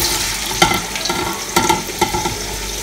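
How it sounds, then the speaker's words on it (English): Onions hit hot oil in a pot for a Nigerian egusi soup, raising a close sizzle broken by several sharp stirring scrapes and clacks spaced across the moment. "at this stage the oil is properly heated. I'll add my onions to the pot."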